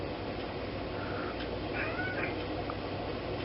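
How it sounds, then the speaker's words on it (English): A cat meows softly a couple of times over a low background hum, fairly quiet and close. "And meowing."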